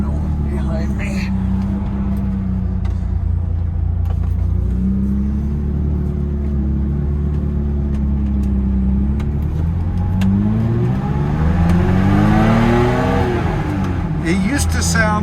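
A 1974 BMW E9 engine is revved up and down close by, its steady rumbling idle rising into a louder, climbing rev near the end.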